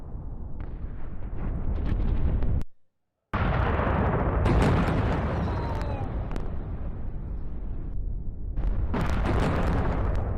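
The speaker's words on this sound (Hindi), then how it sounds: "ये देखिए तस्वीरें, एक के बाद एक धमाके और फिर धुएं का गुबार उठा।" Deep, rumbling blasts from an attack in Karaj, Iran roar continuously, broken by a sudden short silence before the heavy booming and crackling resume.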